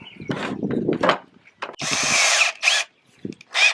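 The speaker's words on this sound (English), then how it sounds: "We're going to finish drilling all the way through." A power drill with a 5/8-inch bit bores through a wooden railing that attaches to concrete, whining in several separate bursts with short pauses between them, loud and close, while faint speech sits low underneath.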